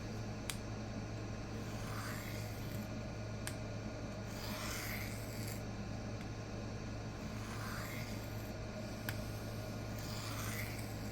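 A knife blade makes light, even freehand deburring strokes across an Atoma 140 diamond plate, soft swishing rasps repeating every second or two at a steady rhythm over a constant low hum.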